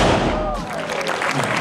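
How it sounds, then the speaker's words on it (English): A cannon at a historic site in Malta fires at close range, a loud low boom that swells and rolls off with a rumbling tail, followed by crowd noise. "What'd you think of the cannon"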